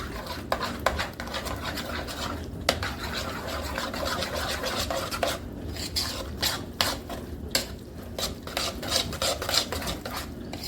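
Wet batter ingredients, melted butter, vanilla and sour cream, are stirred and whisked in a bowl, with quick repeated scraping and clinking strokes against the sides and brief pauses between bursts.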